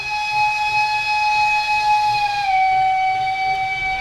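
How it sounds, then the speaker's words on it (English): A sustained, loud train whistle holding a steady multi-tone chord for about four seconds, dipping slightly in pitch midway, heard alone with no talk. "We've had a lot of choo-choos this morning."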